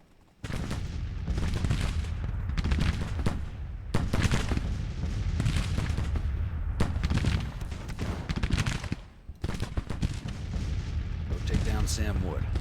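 Heavy gunfire and booming volleys rumble through a Civil War video game battle, dense repeated shots and cannon-like blasts in near-continuous bursts with a brief lull, a voice talking over the din.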